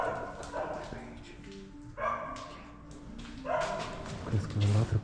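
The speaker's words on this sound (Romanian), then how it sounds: "Ați auzit câinele?" A dog barks outside an abandoned Cold War-era factory, several distant sharp barks scattered across the moment, with people talking quietly nearby.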